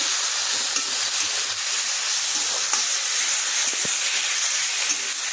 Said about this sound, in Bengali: এই যে বন্ধুরা সরষে বাটা, এটাও দিয়ে দিই। আবার ভালো করে কষিয়ে নিচ্ছি।